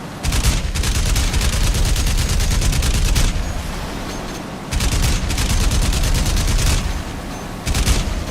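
A video game battle with bombs going off plays as a loud, constant roar of explosions and rapid gunfire. It stops briefly a few times and then starts up again.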